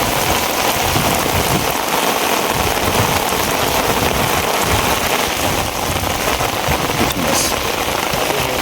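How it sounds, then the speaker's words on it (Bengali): Heavy monsoon rain pours steadily over a wetland, a dense, continuous roar of drops hitting surfaces with no pauses, loud and close throughout. "প্রচণ্ড বর্ষা ওদের বৃষ্টি বৃষ্টির শেষ নেই"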